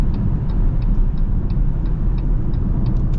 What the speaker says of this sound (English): this drives like most electric cars